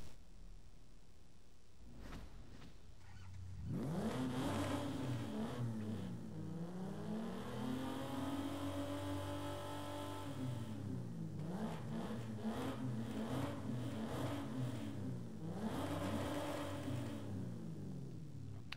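A Mitsubishi Dakar rally car in Forza Horizon 5 cranks and fires up, then revs repeatedly, its engine note sweeping up and down in several loud, close bursts with no talking.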